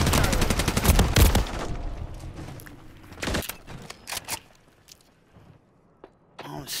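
Gunfire in Call of Duty: Modern Warfare 3, with a loud, rapid automatic burst at the start, then scattered single shots and short volleys fading into quieter gaps, with a voice speaking briefly.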